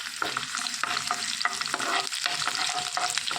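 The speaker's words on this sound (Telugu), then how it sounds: "మొత్తం వేయించేసుకొని" Dried red chillies and cut garlic fry in a pan under a continuous oily sizzle, with regular spatula scrapes and stirring knocks about twice a second, close and clear, and no voices.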